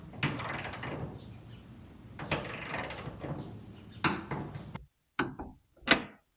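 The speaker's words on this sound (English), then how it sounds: "We're going to go ahead and use a torque wrench on it just for grins" A torque wrench tightens the bolts on a BAK Revolver X4s tonneau cover, giving close metallic ratcheting clicks in short bursts separated by pauses, with a few sharp clacks near the end.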